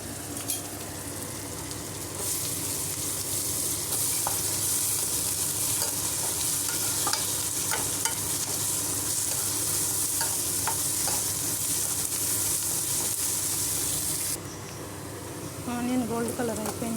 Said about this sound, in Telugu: కొంచెం ఫ్రై అవ్వాలి ఆనియన్. అల్లం వెల్లి పేస్ట్ వేసుకుందాము.